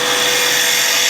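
Wood lathe with a tool riding across a spinning top to form its bottom: a loud, steady, close hiss of cutting over the motor's drone, continuous throughout and unbroken by talk.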